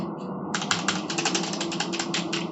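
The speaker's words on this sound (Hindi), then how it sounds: "जो साउंड है वो भी प्रॉपरली मैकेनिकल कीबोर्ड की तरह ही है, क्योंकि ये मैकेनिकल कीबोर्ड ही है।" Keys clatter on a Logitech G512 mechanical gaming keyboard with an aircraft-grade aluminium top plate, a rapid run of crisp, close clicks after a brief quiet start.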